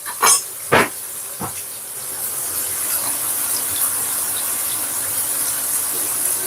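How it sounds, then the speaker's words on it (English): A kitchen extractor fan drawing fumes from a pan-seared sirloin steak runs as a steady airy hiss, broken early by a couple of sharp sizzling spits from the pan. "that noise you hear is just the extractor fan"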